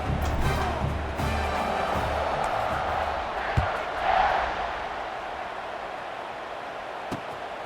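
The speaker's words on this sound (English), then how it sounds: "this crowd is buzzing after that last score." A large stadium crowd roars and murmurs continuously in College Football 26, during USC at Baylor following a touchdown, a dense wash of cheering with a swell midway and occasional sharp thuds.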